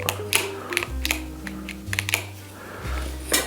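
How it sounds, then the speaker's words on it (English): Small button on a Specialized bike gear shifter clicked by hand during a repair, giving several sharp, close clicks at irregular intervals over a low steady hum. "I'm clicking the little button"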